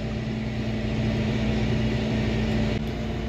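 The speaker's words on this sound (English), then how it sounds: "A guy in a big green tractor." A big green tractor engine runs steadily in a cornfield during corn chopping, a constant droning hum with a firm low tone and no change in pace.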